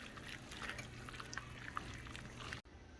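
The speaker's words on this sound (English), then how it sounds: "Now we stir." White soup with chicken, butter, garlic and vegetables being stirred in a pot: soft, faint liquid sloshing and swirling that continues steadily, then cuts off abruptly near the end.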